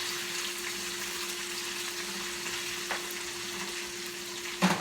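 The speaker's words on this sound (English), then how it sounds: "I'm gonna get it on the stove to toast it up on the inside" Buttered bread toasts in a hot pan on the stove, a steady close sizzle with broadband crackle throughout, a faint hum underneath and a couple of soft clinks, one near the end.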